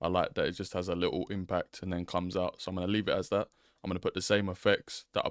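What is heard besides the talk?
No distinct noise like a dog, phone or traffic.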